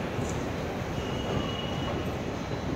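A metro train in a station rumbles steadily at close range, with a faint squeal of wheels over the continuous noise.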